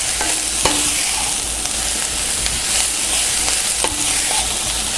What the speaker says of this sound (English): add the butternut squash. And let that start to cook down in here with my Brussels sprouts